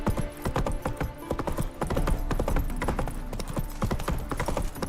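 Horse hooves gallop in The Witcher 3 video game, a fast, loud, continuous drumming of hoofbeats at close range, steady throughout with no speech.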